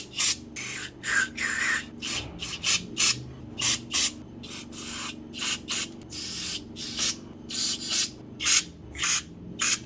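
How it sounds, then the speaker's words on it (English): Aerosol carburetor cleaner sprays through the passages of a Holley Demon 625 carburetor in a series of sharp, close hissing bursts of uneven length, repeated steadily. "make sure you spray every single hole, make sure the spray goes in and it exits somewhere else"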